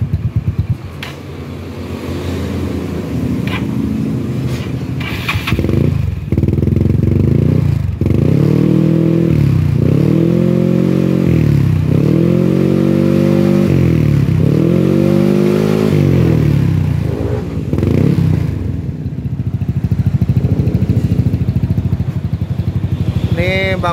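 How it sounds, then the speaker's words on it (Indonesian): A Yamaha Mio motorcycle with an aftermarket performance exhaust revs hard several times in a row, loud and close, each surge rising and falling before it settles back to a rough idle. "knalpotnya udah kita cek sound"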